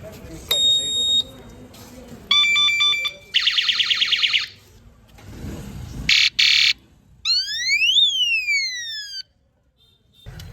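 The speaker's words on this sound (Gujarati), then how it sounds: "હોરન થઈ ગયું છે ફિટ અહીંયા નીચેની સાઈડ રાખ્યું છે એટલે દેખાય નહીં અને અવાજ સંભળાવું તમને" A newly fitted vehicle horn mounted low underneath sounds in a run of varied electronic tones: rising and falling sweeps, pulsing beeps and buzzy blasts in separate bursts, loud and close, with someone talking between them.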